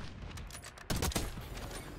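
A first-person shooter game fires a quick cluster of two or three sharp gunshots, loud and close, over a low background of game ambience.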